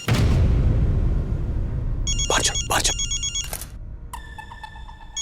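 A telephone rings in bright electronic bursts after a loud low rumble at the start, repeating a few times, fairly close with no voices.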